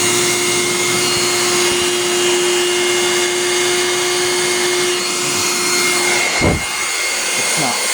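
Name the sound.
Bissell 3-way vacuum cleaner running, broken suction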